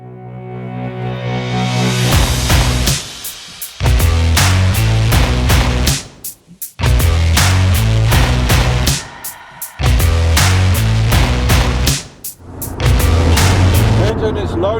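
V8 hot rod truck engine running in loud, rough bursts with a lumpy, pulsing idle, cut by short drops and gaps between the runs.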